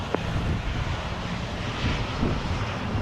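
Southwest airliner starting its takeoff roll on runway 07 at Montego Bay in gusty wind, a moderate steady jet roar with broadband rumble, heard from a distance and swelling slightly at the end.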